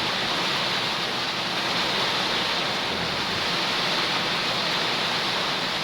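Heavy typhoon rain pours down without letup in Camarines Norte, driven by strong wind into a loud, unbroken hiss with no voices.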